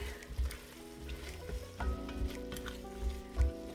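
Mushrooms stirred into a sizzling chicken pot pie soup base in a pot, with a steady fry hiss, a few soft scrapes and low thumps of the spoon, and a faint background hum, no talking.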